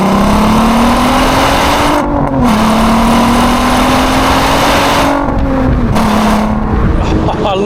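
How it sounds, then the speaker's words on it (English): A Volkswagen Golf R32's naturally aspirated VR6 engine revs hard with the window down. Its rising, howling note climbs through the gears, with two brief dips at the shifts, as the car accelerates close by. "You want to feel and hear that engine, so what you do is just bring the window down, just get a sense of that"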